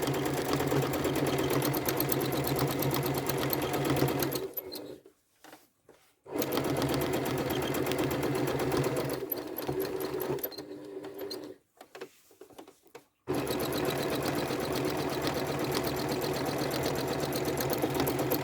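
A sewing machine stitching a quilt, a loud close steady motor whir with rapid needle rhythm, stopping twice for short pauses with small clicks before running on again.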